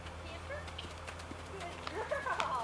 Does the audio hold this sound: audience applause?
no